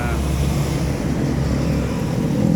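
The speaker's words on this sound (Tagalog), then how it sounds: "napakaraming motor dito napakaingay na tambucho" Loud motorcycles with noisy exhausts pass on a busy street in Dasmariñas, Cavite, a steady rumbling roar of engines and traffic filling the scene without pause.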